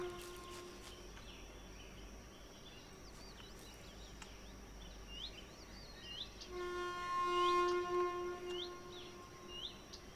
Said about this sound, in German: Jetzt müssen wir das Zugsignal hören.